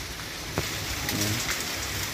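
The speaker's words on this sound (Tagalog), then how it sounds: "Walang tigil ang ulan." Heavy, unbroken rain falls during a typhoon, a dense steady hiss of drops on surfaces with a few sharper splashes, close and continuous.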